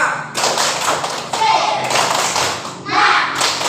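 Children in a classroom doing a rhythmic spirit clap, with several loud, broadband bursts of claps mixed with young voices and general room chatter.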